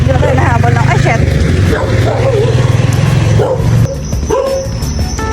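A dog gives chase outdoors, barking and yipping in quick bursts close by, mixed with people's excited voices and passing traffic.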